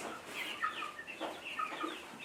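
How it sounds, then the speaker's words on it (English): Young poultry chicks peep and cheep continuously inside a brooder house where day-old birds are raised, a dense overlapping chorus of high chirps at moderate, steady level with no talk. "this is a brooder house where a 1 day old bird is raised"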